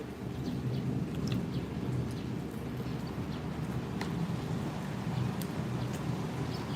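Rain falls steadily in a dense, even hiss with a low rumbling undertone, continuous and moderately loud, with occasional faint drips or clicks on top.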